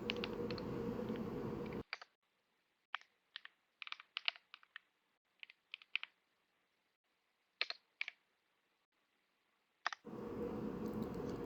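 A computer keyboard typing a command, heard as sparse, crisp key clicks in short irregular bursts over near silence, framed by steady louder background noise at the start and end.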